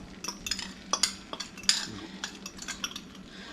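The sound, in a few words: scraping out a bowl with a utensil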